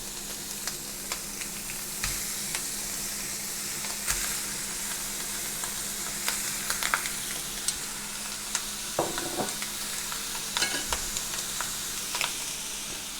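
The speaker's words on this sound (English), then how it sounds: "There's enough grease in the bacon, it doesn't need oil. So, stick in your bacon." Bacon sizzling and crackling in a dry pan with no oil, a steady frying hiss dotted with sharp pops and a few stirring or turning scrapes, close up and without talk.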